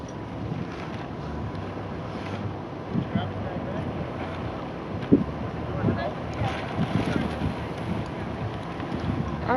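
Gusty wind buffets the microphone outdoors at a festival camp, a broad steady roar with occasional louder rushes and faint thumps, heard alone without talk.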